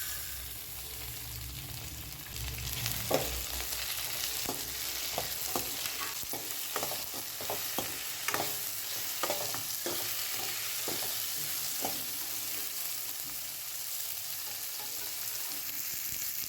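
Three medium tomatoes stir-frying in a pan for Andhra-style gongura chutney, a soft continuous sizzle with a run of light spoon scrapes and taps, fairly quiet and without talk.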